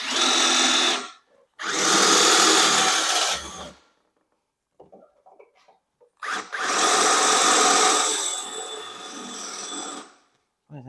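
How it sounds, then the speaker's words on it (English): A power drill bores out rivets on a golf cart battery tray, an EZ-GO TXT, in three loud, close whining bursts separated by short pauses. "drilling these two rivets out"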